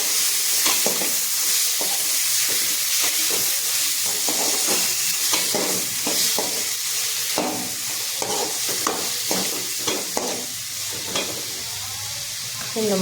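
Three chopped tomatoes frying in a pan for an ayila (mackerel) fish curry are stirred with steady, repeated scraping strokes over a constant close sizzle.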